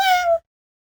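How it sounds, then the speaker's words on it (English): One brief cat meow, close and clear, a tonal cry of under half a second that ends abruptly, with nothing else audible. "cat"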